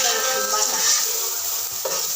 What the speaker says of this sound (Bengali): চালটা ভেজে নেওয়া হচ্ছে।